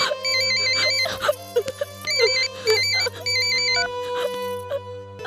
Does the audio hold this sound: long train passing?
no